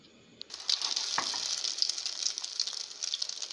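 An egg-dipped bread slice hitting a hot pan, with a small thump as it lands, then a steady close bright sizzle of frying that keeps going with faint crackles, without talk.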